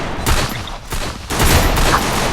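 Gunfire in a video game, several bursts of loud rapid shots roughly a second apart, with sustained noisy blasts filling the whole short stretch.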